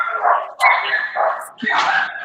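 Dogs bark loudly and close by in several sharp, overlapping bursts, with yips and whimpering mixed among the barks.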